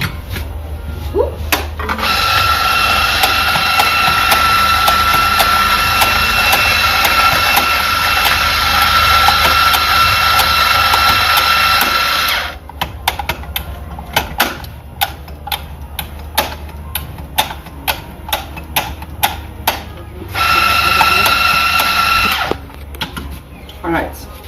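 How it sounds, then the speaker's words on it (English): A coffee grinder runs in two loud, steady grinding bursts, a long stretch of about ten seconds and then a shorter one near the end, with handling clicks and taps between them. "I'm going to grind our coffee on the side."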